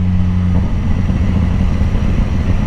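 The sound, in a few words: BMW S1000RR motorcycle engine revving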